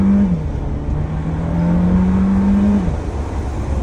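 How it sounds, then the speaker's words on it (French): A Mercedes-Benz A 180 AMG Line in sport mode accelerates from inside the cabin, its engine droning loudly and steadily with a low tone that dips, then climbs and holds before easing off. "écoutez bien le bruit que fait cette classe A."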